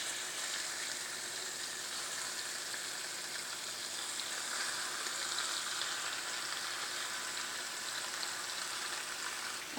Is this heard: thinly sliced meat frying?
yes